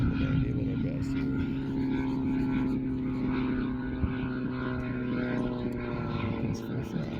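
A giant scale radio-controlled F8F Bearcat model airplane flies in a crosswind, its engine droning steadily and loudly throughout with a strong propeller tone, holding near-constant level with slight swells as it passes.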